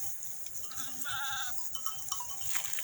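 Dairy-breed sheep bleat in a short wavering call over a steady outdoor background in a stubble field, with a second fainter bleat nearby.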